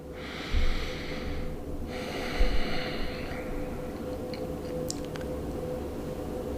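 Close, audible breaths: two long airy inhales or exhales in the first few seconds, then quieter breathing over a steady low hum.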